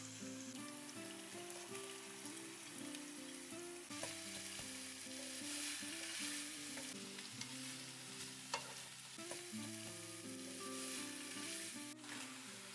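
Chopped vegetables stir-fry in a pan with garlic for Indian street-style noodles, a constant crackling sizzle with the scrape of stirring, steady and close beneath background music.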